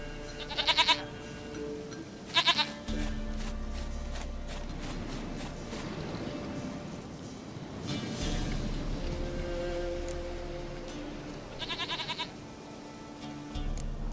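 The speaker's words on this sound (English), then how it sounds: "Goat of mine, dearest, sweetest goat." A goat in The Witcher 3: Wild Hunt gives short, close bleats in separate bursts: one at the start, another soon after, and a third near the end. Quieter ambient game sound fills the gaps.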